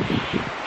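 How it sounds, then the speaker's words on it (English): A brief gust of wind sweeps through leaves near Tuolumne Meadows in Yosemite wilderness, a soft, airy rustle swelling in short pulses that lasts under a second. "that's a gust of wind"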